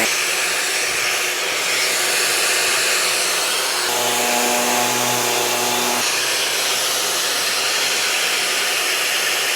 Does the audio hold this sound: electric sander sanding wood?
yes